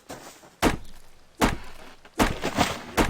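Tree being chopped for wood in the survival video game Subsistence: five solid wooden thunks at a steady rhythm, each a sharp, fairly loud strike over a faint background hiss.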